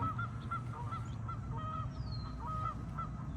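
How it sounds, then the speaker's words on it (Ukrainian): Geese honk repeatedly in a loose, uneven series over a steady low rumble, close and fairly clear, with no talking. "Гусі в шоці."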